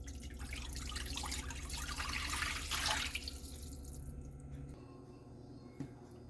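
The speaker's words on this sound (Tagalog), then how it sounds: "Maglalagay tayo ng tubig." Water running from a tap into a wok while cooking pansit bihon, a steady rushing pour that fades out after about four seconds, leaving quiet kitchen background and a small clink.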